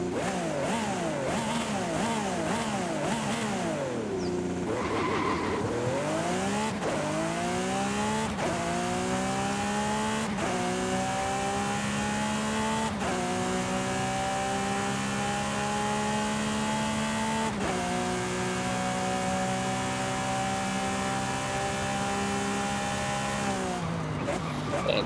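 A Lamborghini in Forza Horizon 5, gloss black and gold, screams through rapid upshifts with rising engine pitch, then holds a loud, steady high-revving drone at top speed, with someone talking over it.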